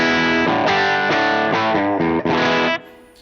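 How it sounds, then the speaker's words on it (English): Fender Modern Jazzmaster electric guitar on its humbucker pickups, no fuzz, plays a few loud, driven chord hits in quick succession before the last one cuts off and fades, with no voices. "Now that, with the humbuckers, without the Cobra Fuzz, sounds like this."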